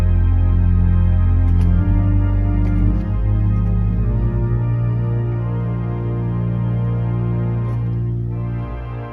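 Echo strings on a large 1922 Skinner and 1950 Moller pipe organ sound sustained chords, soft and reverberant, shifting gently from one chord to the next with no talking over them.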